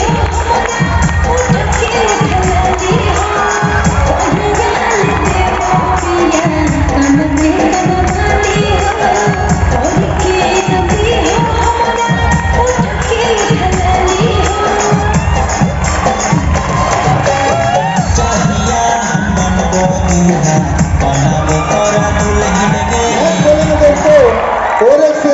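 A large crowd at a recognition event in Patna's Gandhi Maidan cheers and whoops loudly and continuously, with shouting voices and an amplified speaker mixed in throughout.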